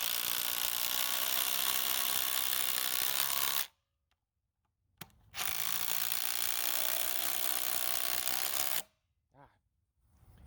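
A compact Ryobi or Ridgid impact driver drives 3-inch screws, two long loud bursts of rapid hammering rattle, each lasting several seconds and separated by a brief pause with a short blip.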